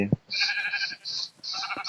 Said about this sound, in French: le mouton vient là